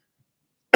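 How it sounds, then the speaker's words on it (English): A single sharp, loud cough bursts out close to the microphone after near silence and is cut off right at the end. "sorry for the cough yet again"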